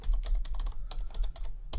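Rapid typing on a computer keyboard while entering a security rule, a close, steady patter of key clicks with brief pauses and no talking.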